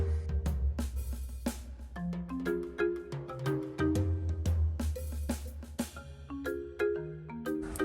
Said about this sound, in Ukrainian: Ще прийшло повідомлення про надходження товару, а саме велосипед.